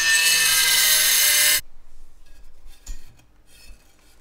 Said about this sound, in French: Découpe la denture de la première pierre.